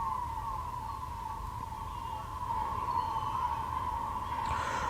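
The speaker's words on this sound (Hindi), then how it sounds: "आप सुन सकते हैं, मैं खुद सुन रहा हूं कि आसपास से एम्बुलेंस" An ambulance siren wails near the site of a road accident where a truck hit people standing on the road. A steady tone carries over low traffic rumble, moderately distant and continuous.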